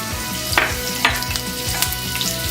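Mustard seeds, asafoetida and chopped green chilies sizzle and fry steadily in hot oil, with a few sharp spluttering pops and crackles breaking out over the continuous frying hiss, close and fairly loud.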